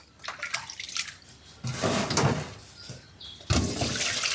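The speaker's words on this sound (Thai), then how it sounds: "ก็ล้างน้ำเปล่าอีกรอบหนึ่ง" Plain water runs and splashes while pork liver is rinsed, with short bursts of pouring and sloshing close by and no talking.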